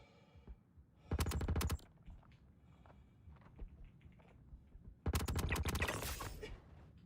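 Two loud bursts of automatic gunfire in Star Citizen, each a rapid rattling volley about a second long, separated by quieter footsteps and scattered thuds.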